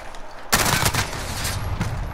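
Rapid automatic gunfire in Call of Duty: Modern Warfare, a loud sustained burst of rattling shots that starts abruptly and keeps going steadily to the end.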